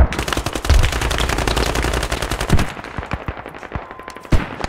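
Rapid automatic gunfire from the military shooter game Squad, loud sustained bursts for several seconds followed by scattered single shots and a closer sharp report near the end.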